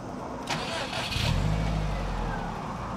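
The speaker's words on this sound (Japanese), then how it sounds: "エンジンかけてみますか" A Subaru Impreza GDB engine cranks briefly, catches and settles into a steady low idle, close by, with a faint voice in the background.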